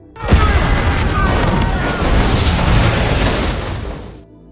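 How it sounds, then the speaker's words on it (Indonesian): A sudden loud explosion in an action film scene bursts out and sustains a dense, roaring rumble for several seconds before fading, with faint voices mixed underneath. "setelah ledakan itu"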